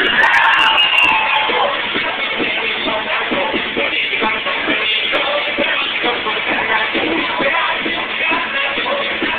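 A large crowd at a live event screams and cheers continuously, a dense, loud roar of yelling and whooping voices that holds steady throughout.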